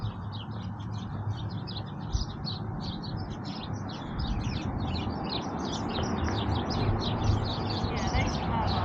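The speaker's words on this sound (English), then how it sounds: "Oh, look, the birds have nests in there." Small birds chirp and twitter steadily from nests inside an old church furnace in Ridgeley, West Virginia, a busy overlapping chorus of high tweets over a low rumbling background that swells slightly in the second half.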